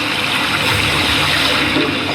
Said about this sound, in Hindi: यहाँ सतत क्षिप्रा नदी की निर्मल धारा बहती है।